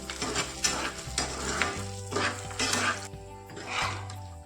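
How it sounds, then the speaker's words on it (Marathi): Dry fruits roasting in a pan over a low flame for a fasting date barfi, with rattling, stirring scrapes and a soft sizzle in repeated bursts, close up and without voices. "तर मंद गॅसवर खमंग आपण असं हे ड्रायफ्रूट भाजून घेऊया"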